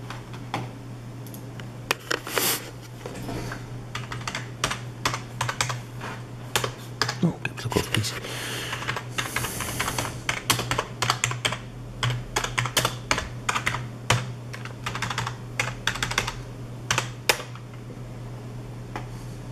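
Fingers type on a Logitech K120 USB keyboard, a close run of quick plastic key clicks in uneven bursts with brief pauses, over a steady low electrical hum.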